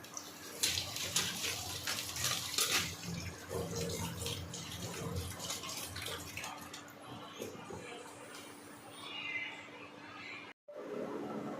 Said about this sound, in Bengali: চলো এরপর আলুগুলো ভালোভাবে ধুয়ে নেব।